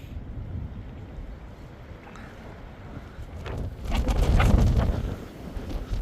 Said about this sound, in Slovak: Takto extrémne silno fúka vietor.